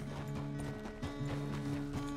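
Horse hooves clop in a steady, brisk rhythm in the video game Red Dead Redemption 2, close and continuous over sustained tonal background music.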